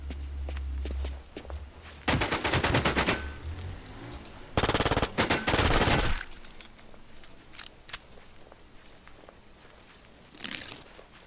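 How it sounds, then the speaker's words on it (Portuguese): Gunfire in the video game Infestation The New Z on the Spring Valley map: loud rapid bursts of automatic shots in several separate volleys, with quieter crunching footsteps between them and no talk. "Não sei de onde tá vindo esse tiro, cara."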